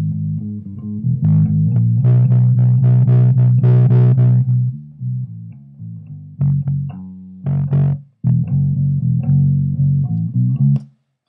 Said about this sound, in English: I've got a bass guitar track here that I'll play for you